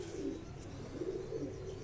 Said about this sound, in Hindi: ये मेरे छत का जी लाजवाब कबूतर है